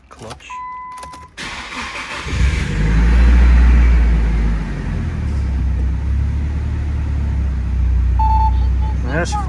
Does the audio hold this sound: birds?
no